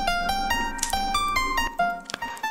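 A short melodic keyboard phrase of bright, bell-like piano preset notes without effects, played one after another at a steady pace, clear and close, with no voices.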